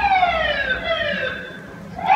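An emergency vehicle siren wails through New York City streets near a fire station, its pitch sweeping downward in a long glide before rising again at the end, heard from a moderate distance over low traffic rumble.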